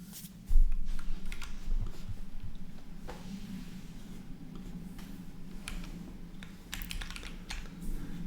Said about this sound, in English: I have not modded my keyboard, actually. It is just the keyboard as it came.